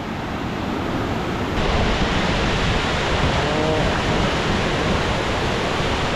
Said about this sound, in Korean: 거의 이거는 뭐 폭포 수준인데?